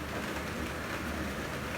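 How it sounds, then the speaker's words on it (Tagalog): Heavy rain pours steadily outside, a dense, even hiss with no breaks and no voices. "Lakas ng ulan. Narinig nyo ba yung ulan?"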